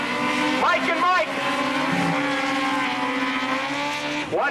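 Race cars come out of turn 2 at Tosa Raceway Park with a loud, continuous engine roar and brief tire squeals, while an announcer talks over the track noise throughout.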